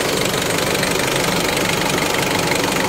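Isuzu mu-X engine idling after cleaning of the EGR, intake manifold and throttle body: a loud, steady, close mechanical idle with a busy rattling, knocking texture and no talking.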